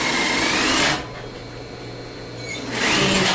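A sewing machine stitches stretchy lycra fabric for a bikini, running loud and fast, pausing briefly in the middle, then whirring back up to speed, close and alone.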